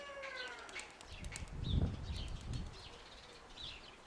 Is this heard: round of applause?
no